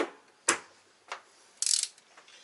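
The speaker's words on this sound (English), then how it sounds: "And torquing in the correct sequence." A torque wrench tightens camshaft caps in sequence on an RB25DET engine during a Tomei Poncam install. A few sharp, close clicks are followed by one short burst of ratcheting, with quiet in between.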